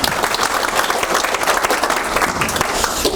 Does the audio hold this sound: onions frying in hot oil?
no